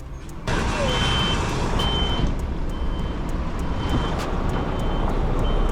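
A delivery truck backs up at a construction site, its reversing alarm sounding in steady, evenly spaced beeps over a loud continuous diesel engine rumble.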